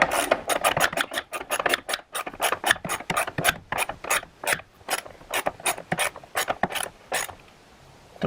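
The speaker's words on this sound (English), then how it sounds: "Tighten the bracket back down." A ratchet tightens the battery hold-down bracket on a 2009–2018 RAM 1500 pickup, giving a long run of crisp, close pawl clicks in quick bursts with brief pauses between strokes. No one talks.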